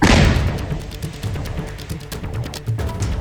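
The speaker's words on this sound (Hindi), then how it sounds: "आसिफ के घर में भी धमाका हुआ" A house blown apart by a bomb opens with a loud, close blast, followed by rumbling and scattered crackling debris with no voices.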